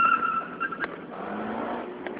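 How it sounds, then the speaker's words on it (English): A 2004 Honda Civic DX does a low-rev first-gear burnout, its engine droning steadily at moderate volume under a faint tire squeal, with no voices. "We are gonna try a low rev burnout."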